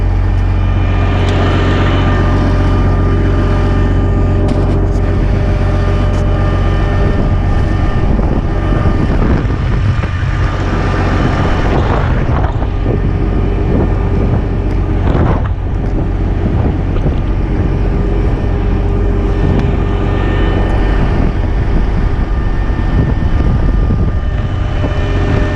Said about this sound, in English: The wind's ripping.